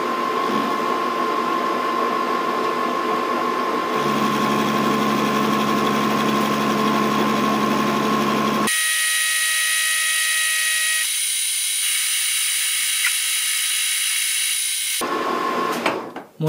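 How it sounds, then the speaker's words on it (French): A metal lathe machining and threading hexagonal bar stock gives off a loud, steady mechanical whine and hum. The tone and pitch change abruptly a few times as the operation shifts, then the machine winds down near the end. "Et je vais usiner un diamètre 18 et faire un filetage au pot de 150."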